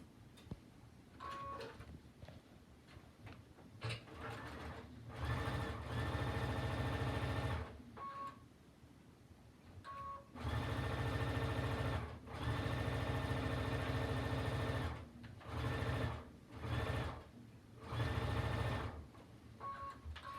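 A sewing machine runs in several bursts of steady stitching, sewing a quick quarter-inch seam on quilting fabric. Each burst lasts a few seconds, with quieter pauses between them while the fabric is adjusted. The machine is close and loud.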